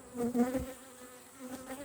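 Honeybees buzz around an open hive during an apiary inspection, a close steady droning hum with brief louder swells as individual bees pass near, with no talking.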